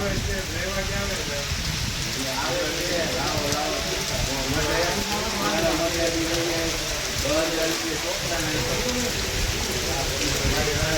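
A heavy monsoon downpour drums and hisses continuously close by, loud and unbroken, with a voice speaking over the rain for most of the stretch.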